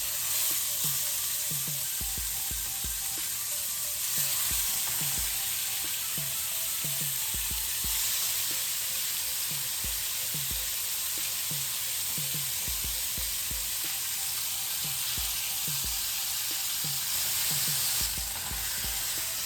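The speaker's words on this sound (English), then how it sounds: "brown up the meat just a little bit before we put it in the slow cooker" Meat for birria tacos browning in a hot pan, giving a steady close sizzle and crackle throughout, with soft rhythmic pops and occasional stirring scrapes and no talk.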